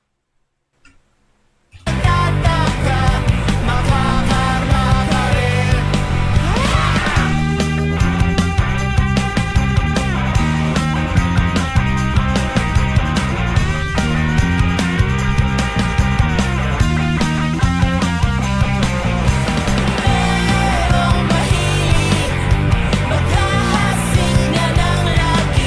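Twangy alternative rock guitar solo on a Fender Stratocaster, loud and continuous over a full band backing, starting abruptly after a brief silence.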